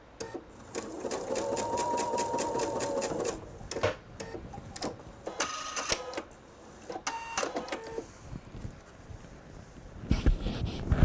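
A sewing machine stitches the fabric of a jelly roll purse with a rapid rhythmic whir, starting and stopping in short runs mixed with clicks and handling noises, close and clear.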